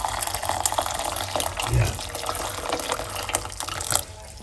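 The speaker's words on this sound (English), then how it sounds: "we're going to put 1 cup of hot water inside of the pot" Hot water, one cup's worth, pours into a kitchen pot for Jamaican cucumber and ginger tea, a steady running splash under a man's brief spoken word.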